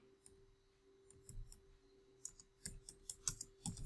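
Keys click on a computer keyboard in a quiet room, faint at first, then a quicker run of distinct taps toward the end, alone with a low steady hum behind.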